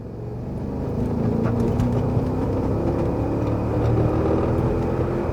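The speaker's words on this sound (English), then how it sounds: "this motor is just pulling this thing up the hill" A Porsche Cayenne Turbo S engine pulls the SUV uphill, a steady, close low hum and whir that rises slightly in loudness and holds, heard from inside the cabin without talking.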